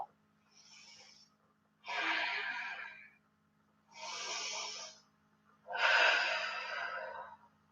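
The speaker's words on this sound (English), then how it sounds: "And then exhale." Four deep, slow breaths during a yoga session, each a long airy rush of air with short silent gaps between them, close and fairly loud, the later exhales fuller and stronger than the first.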